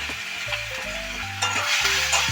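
Chopped onion sizzles in hot oil in a pan, with a spoon stirring and scraping against the metal in short bursts, close and fairly quiet.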